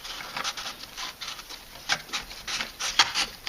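Flat reed strand being woven through a splint chair seat in a herringbone pattern, close soft rubbing and rasping scrapes in irregular bursts, with a few sharper creaks as the reed is pulled tight.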